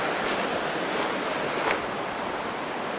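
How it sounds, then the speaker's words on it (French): Broadband rushing of river water at the riverbank, steady and fairly close throughout, with a brief swell midway and no voices. "Je suis au bord de la rivière."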